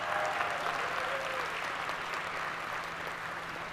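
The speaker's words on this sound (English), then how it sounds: "Please, another round of applause for" Sustained applause from an audience of hundreds at a dual enrollment ceremony, a steady dense wash of clapping that holds evenly throughout with no voices over it.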